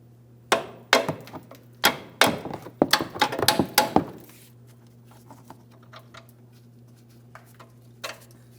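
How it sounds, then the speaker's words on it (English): A control arm alignment cam bolt on a 2007-2014 GMC Sierra 2500 HD being tapped out of position, a quick series of sharp metallic hammer taps over about four seconds, then quiet with one last faint tap. "You may have to tap it out of position."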